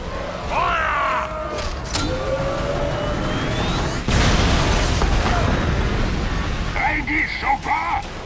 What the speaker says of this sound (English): Oh, look, it's a cannon.